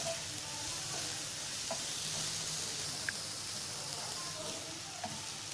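Chicken samosa filling fries over medium heat, giving a steady, even sizzle that holds for several seconds, with faint stirring clicks scattered through it.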